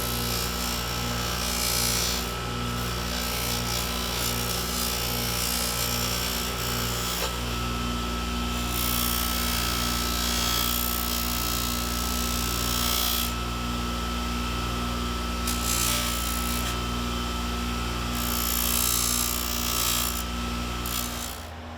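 A Damascus steel Persian dagger pressed gently against a powered buffing wheel, giving a steady, continuous whirring and rubbing drone that runs unbroken throughout at close range, with no talk.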